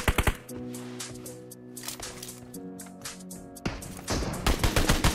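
Rapid bursts of sniper and SKS rifle fire in a team match of a shooter video game, loud and close, with clustered shots at the start and dense volleys toward the end, no talking.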